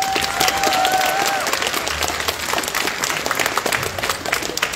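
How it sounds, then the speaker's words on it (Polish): Enthusiastic applause from a crowd at a cosplay contest during a fantasy convention, loud dense clapping with a whistle near the start and scattered cheers. "Także wielkie brawa."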